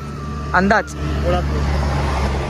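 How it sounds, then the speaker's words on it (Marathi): Steady road rumble from trucks and other traffic on the route between Dombivli and Chiplun, heard from a moving Access 125 scooter. The noise stays continuous and fairly loud, with a brief voice near the start. "आणि आवाज पण थोडा आता ट्रक वगैरे चाललो."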